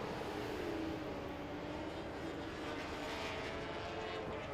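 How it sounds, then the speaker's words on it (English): Aprilia RSV4 and Ducati V4 road-racing motorcycles at an FIM Asia Road Racing Championship circuit, their engines blending into a steady, loud, continuous roar that holds without a break throughout. "very different sounding bikes, I must say, between the Aprilia and the new Ducati V4s"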